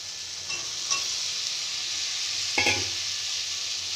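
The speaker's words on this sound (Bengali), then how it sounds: "আলু দিয়ে আমি 2 থেকে 3 মিনিট কষিয়ে নেব।" Long-cut potatoes frying in spiced oil for a vegetarian curry, a steady close sizzle with a couple of brief stirring scrapes breaking through it.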